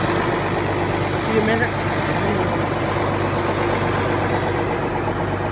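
A Case IH MXM 190 tractor engine idling steadily after a cold start on a winter day, a constant low rumble throughout with people talking over it.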